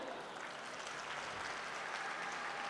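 Steady, dense audience applause at a mushaira poetry recital in a college hall, filling the moment evenly without a break.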